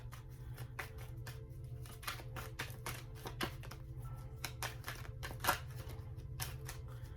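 Tarot cards being shuffled by hand, a quick run of crisp riffling flutters and soft slaps, close and fairly faint over a low steady hum, with no talking.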